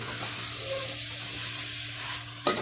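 Beef and taro braise in a pan, giving a continuous close sizzle and bubbling with faint stirring scrapes and one sharp clack of a utensil near the end. No voices are present.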